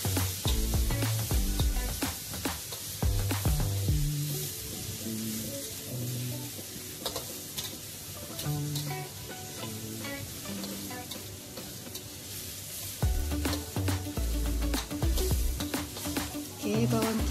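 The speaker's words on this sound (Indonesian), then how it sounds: "Masukkan bawang merah. Kita gaulkan" Shallots stir-frying in a pan: a continuous sizzle with intermittent scraping stirs, close and fairly loud, with music playing underneath.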